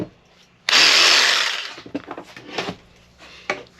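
A small hacksaw cuts through material for a DIY catfish livewell, a loud, harsh rasping burst at first followed by several shorter, quieter scraping strokes in an uneven rhythm, close to the listener.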